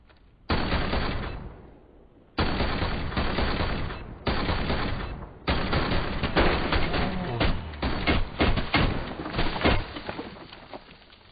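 Full-auto gunfire in a battle royale video game, with several loud bursts of rapid shots separated by brief gaps, close and harsh and dominating the scene.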